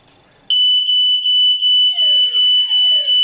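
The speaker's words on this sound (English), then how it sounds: "I'm going to trigger the smoke alarm" A piercing, loud smoke alarm on a Texecom alarm system starts abruptly and keeps shrilling in a continuous pulsing tone, with a faint rustle just before it begins.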